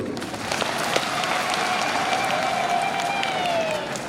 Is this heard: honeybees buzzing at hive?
no